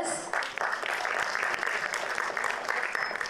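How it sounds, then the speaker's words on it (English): An audience at a film festival gives a huge round of applause after a tribute, with loud, dense clapping sustained throughout and a faint tone and a few voices mixed in. "Let's have a huge round of applause."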